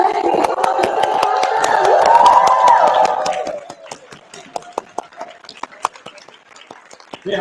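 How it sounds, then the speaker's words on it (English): Applause for the National Board at a JCI Malaysia leadership summit, a loud burst of crowd clapping and cheering that swells for a few seconds, then thins into scattered individual claps. "Round of applause"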